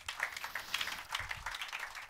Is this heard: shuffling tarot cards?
no